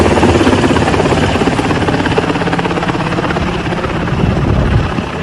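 A helicopter, a US aircraft flying a Taliban flag over Afghanistan, holds a loud steady rotor drone overhead, its dense chop continuous and close from start to finish with no voices.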